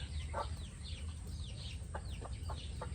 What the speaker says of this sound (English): Chickens, or some of the chickens, always follow us around.